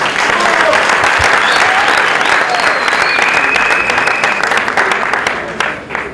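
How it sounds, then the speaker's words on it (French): Crowd at the launch of a political coalition applauding loudly, dense sustained clapping with some cheering mixed in, tapering off toward the end. "Est-ce qu'on peut applaudir?"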